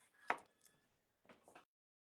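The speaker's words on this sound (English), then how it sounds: "I'm gonna cut the potatoes into more" A knife slices potatoes into half-inch-thick pieces, making one crisp, close chop followed a second later by a softer cluster of cutting sounds in a quiet room.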